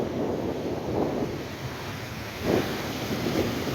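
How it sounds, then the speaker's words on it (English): Massive storm-swell waves surging against a rocky shore at Sully Island, a continuous rough wash with a few heavier surges, mixed with wind buffeting the microphone. "massive waves."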